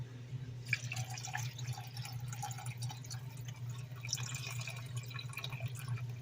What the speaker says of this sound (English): just get rid of the water. So let's just pour this out here